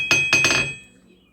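Hammers strike hot metal on an anvil in a knife-making forge: three sharp ringing clanks in quick succession, the last one doubled, then a metallic ring fades into quiet.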